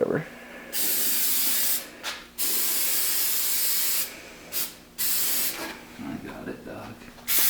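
Loud bursts from a spray paint can hiss in repeated blasts of a few seconds each, separated by short pauses, with faint voices in the background.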